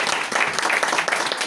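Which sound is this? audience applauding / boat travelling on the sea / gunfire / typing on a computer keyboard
audience applauding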